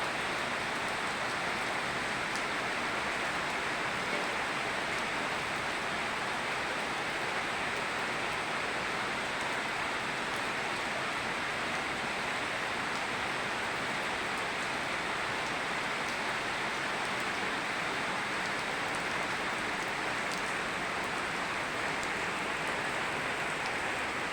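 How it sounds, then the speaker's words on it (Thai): Steady rain pours down without letup, a dense, even hiss of drops on surfaces throughout, with no voices. "ฝนตก ฝนตกฝนตก"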